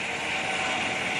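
A helicopter flies over a forest fire in Västmanland, heard as a loud, steady broadband roar of rotor and engine noise with no break.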